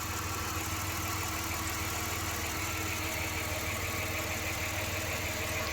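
A 1993 Dodge Grand Caravan LE's 3.3 V6 running steadily, a constant close engine hum and rumble with no change in pitch and no voices.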